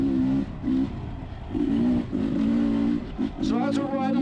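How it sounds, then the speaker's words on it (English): A 2021 Beta 300 RR two-stroke dirt bike ridden at trail pace, its engine buzzing and pulsing through repeated throttle blips and brief lulls, loud and close as if recorded on the bike. "So as we're riding along now, we'll call this more of a trail riding pace"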